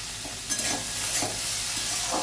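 Carrots, beans, peas and tomato being stir-fried for dalia, a short burst of sizzling with rhythmic scraping stirs of a spoon in the pan; no talking.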